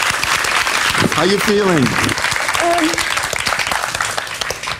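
Audience applauding after a DIY hovercraft demonstration, steady clapping across the whole span with a speaker talking over it briefly.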